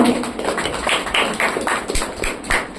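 An audience at a Rakhi program applauds for a 90-year-old woman, giving steady, fairly close clapping with distinct individual claps across the whole stretch.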